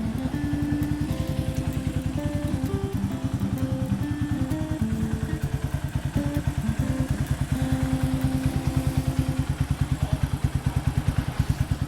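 A GPX Legend 150 motorcycle engine (2019, stock engine) idles steadily up close, its rapid even pulsing thump continuing throughout with a slight mechanical clatter and no voices.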